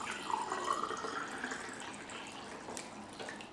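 Water pours into a drinking glass on a table and spills over the rim, a steady close trickle and splash that fades toward the end, with no talk.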